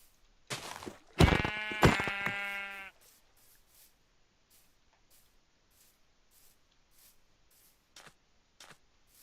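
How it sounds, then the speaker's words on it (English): A Minecraft sheep bleats loudly several times in a quick wavering burst, followed by quiet game ambience with faint sporadic clicks and soft taps. "Where's the sheep?"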